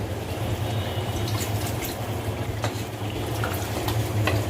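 Water is poured into a pot of spiced beef cooking with ginger paste and chili powder, giving a steady, even wash of liquid over a low stove hum, moderately loud and unbroken for several seconds.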